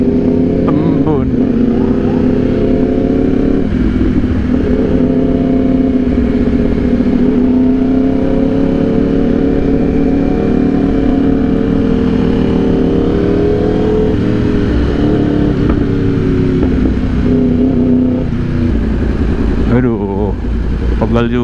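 A Yamaha R1 sport motorcycle roars steadily while riding, its engine droning loud and close with rises and falls in revs over most of the stretch, a rider talking over it.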